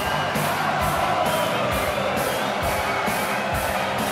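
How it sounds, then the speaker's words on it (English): Crowd at a Thursday night darts event applauding and cheering as the player takes the acclaim, a dense, steady wash of clapping and shouts filling the hall. "Takes the applause of the crowd."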